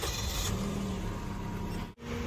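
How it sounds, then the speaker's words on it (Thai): A 2009 Toyota Vios with its stock 1.5-litre engine idles under the open hood, a steady close mechanical hum with a brief dip near the end, no speech. "เดี๋ยวเรามาลองฟังเสียงเครื่องกันสักนิดนึงนะ"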